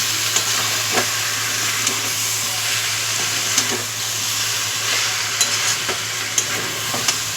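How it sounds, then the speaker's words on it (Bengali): Onion-cashew masala sautéing in a pan over high heat, a steady loud sizzle with periodic scrapes of stirring at a regular pace, no voices. "আগে একটুখানি একবার আঁচটা বাড়িয়ে কষিয়ে নিই"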